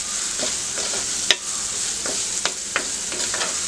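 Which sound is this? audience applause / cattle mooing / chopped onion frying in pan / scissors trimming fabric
chopped onion frying in pan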